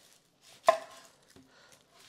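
A kitchen knife chops yellow onions on a cutting board: one sharp, prominent chop followed by a couple of softer cuts, close and quiet, with no voices.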